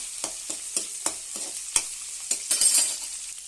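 Chopped tomatoes sautéing in a pan for raita, a spatula scraping and stirring in quick regular strokes about twice a second over a soft sizzle, with no talking.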